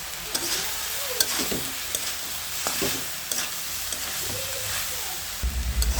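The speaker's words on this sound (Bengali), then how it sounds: "এই যে চিংড়ি মাছগুলো দিয়ে এখন নেড়ে চেড়ে ভেজে নিচ্ছি।" Shrimp fry and sizzle in a pan while being stirred, with steady frying hiss and intermittent scrapes and knocks of the utensil, close and moderately loud.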